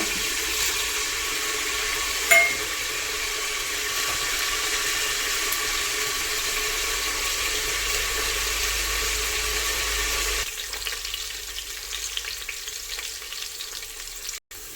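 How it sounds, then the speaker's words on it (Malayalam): Boiling water pours steadily into a cooking pot, a continuous rushing, bubbling wash for about ten seconds that then thins to a softer trickle and hiss; no voices. "നമ്മൾ വെള്ളം നല്ലോണം തിളച്ചീന് കേട്ടോ അപ്പോൾ അതായി കൊഴിച്ച് കൊടുത്തു"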